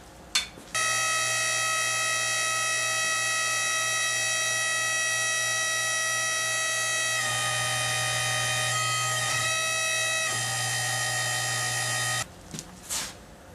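A hydraulic forging press squashes heated brass pieces. Its loud, steady, whining hum runs for about eleven seconds, shifts in tone partway through, then cuts off, followed by a few brief knocks.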